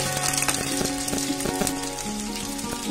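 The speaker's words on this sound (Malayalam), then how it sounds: "ചെറുതായിട്ട് നുറുക്കി വെച്ചിരിക്കുന്ന സവാള ഒരെണ്ണം അത് നമുക്കിട്ട് ഒന്ന് വഴറ്റിയെടുക്കാം" Mustard seeds and chopped onion fry in hot oil for a crab curry, a steady close sizzle with faint crackling and occasional stirring.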